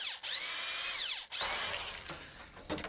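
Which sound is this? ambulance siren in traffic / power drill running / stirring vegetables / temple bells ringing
power drill running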